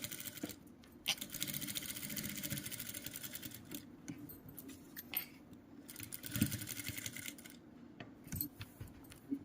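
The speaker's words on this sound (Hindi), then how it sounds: "यहाँ पे सिलाई लगाइए, बिल्कुल किनारे पे सिलाई लगाते जाइए" A sewing machine runs in continuous, fairly quiet stretches of rapid stitching along the edge of a kurti neckline, with brief pauses and small clicks between runs.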